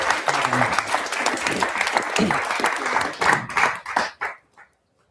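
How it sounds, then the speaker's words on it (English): Warm applause from an audience with a few voices mixed in, tapering off into scattered final claps and then quiet. "let's get another round of applause"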